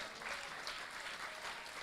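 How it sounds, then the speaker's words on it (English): Audience at a public candidates' discussion in Roseau North applauds, a soft, steady wash of clapping heard from a distance for about two seconds with no voices standing out. "Let's give them a round of applause for all the candidates, please."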